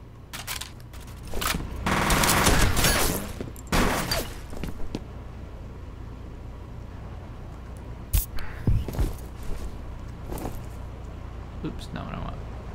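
Gunfire in the F.E.A.R. video game comes as several short bursts and single shots, loudest early on and scattered later, with someone talking in between and a low steady hum beneath.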